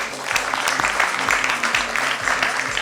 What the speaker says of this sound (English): Let's have a huge round of applause for our stellar panel.